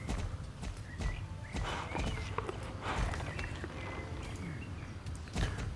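Horse hooves clip-clop in Star Stable Online as a horse runs away, a steady run of sharp hoof strikes over ambient game sound, with a faint whinny-like tone amid the footfalls.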